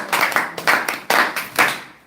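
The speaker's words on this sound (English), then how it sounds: "Give Sister Mayan a round of applause." Four short bursts of hand clapping, a small class group applauding in quick rhythmic spurts with brief pauses between.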